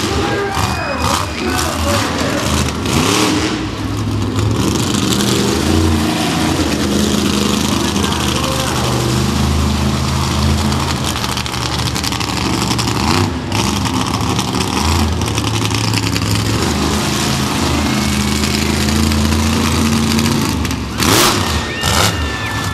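A race vehicle's engine revs and roars loudly on a racing track in Huntsville, Alabama, during an Eliminator run. The pitch rises and falls repeatedly for over twenty seconds, with crowd noise and talk mixed in underneath.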